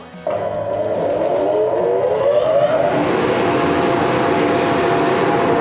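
Sherwood 2HP two-stage dust collector switched on, its motor rising with a climbing whine as it spins up, then settling into a loud, steady rushing roar of airflow.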